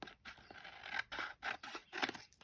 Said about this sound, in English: I'm just going to use the scissors today.